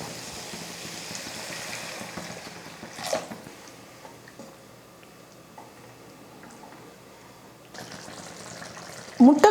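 Water pours into a pan of sautéed masala for egg thokku, a steady, soft splashing hiss, fairly quiet, followed by a few light clinks near the end.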